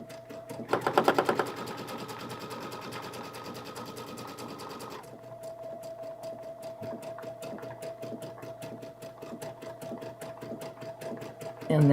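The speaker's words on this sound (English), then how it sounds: "now it's doing the bar tack, and it's stopped" A sewing machine stitches a bar tack on a girl's dress: a dense, rapid burst of stitching early on, then steadier, quieter running before it stops.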